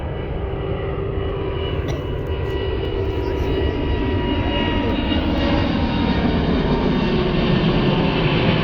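An airplane takes off from a runway with a steady, loud roar of jet engines that holds throughout, heard from nearby on the ground without any talk.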